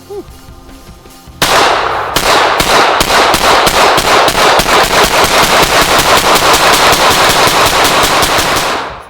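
A Kriss Vector submachine gun fires one long, sustained automatic burst, a rapid, even stream of loud, close shots that starts abruptly after a quiet lead-in and continues to the end.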